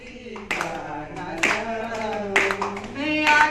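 Hands clap in loose bursts alongside devotional bhajan and kirtan singing drifting from closed hospital rooms during a COVID-19 lockdown, with sustained tonal voices and several sharp onsets at moderate distance.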